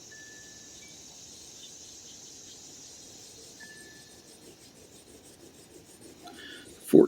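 A 14K white gold sample is rubbed for a purity test, giving a faint, steady scratchy rasp that ends in a sudden louder clunk.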